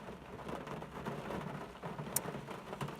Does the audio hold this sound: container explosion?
no